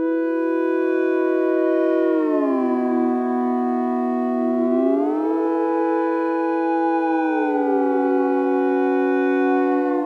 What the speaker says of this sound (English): So let's start with 4 layers of Monotron Duo.